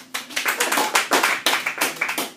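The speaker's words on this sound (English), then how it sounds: "Thank you for your applause." An audience applauds after a poetry reading, steady scattered hand clapping of a small crowd, close and continuous throughout.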